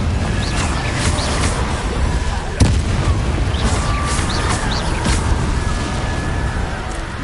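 Combat noise from the Hogwarts Legacy video game, where the Confringo blasting spell is being cast, with a continuous dense rumble, one sharp blast near the middle and smaller pops scattered around it.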